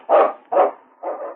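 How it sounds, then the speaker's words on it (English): A husky lead dog in an old radio drama barks three times in an even rhythm, loud and close, with short gaps between the barks and no talk over them. "It's Yukon King, swiftest and strongest lead dog of the Northwest"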